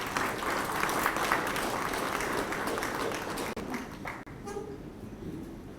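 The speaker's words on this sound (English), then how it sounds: "Can we please give him a round of applause once again?" An audience at a regional cocoa research symposium for West and Central Africa claps in sustained applause, dense and fairly distant, then thins and fades out near the end.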